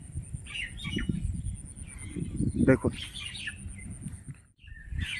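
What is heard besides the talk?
birds chirping in the morning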